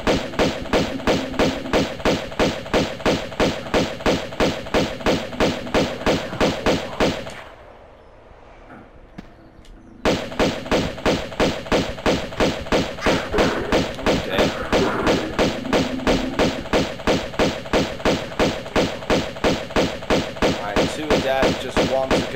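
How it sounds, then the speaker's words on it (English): Rapid, evenly spaced pistol shots fired by Lara Croft in Tomb Raider II Remastered, a loud steady barrage broken by a brief pause around midway before resuming at the same rhythm. "And now we can actually use the pistols because we're in a very good spot."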